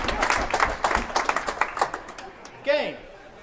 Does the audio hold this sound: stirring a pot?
no